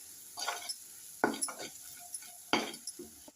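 Chili powder and salt being stirred into eggs in a pan, with three clear bursts of scraping and clinking from a utensil against the pan, close and alone.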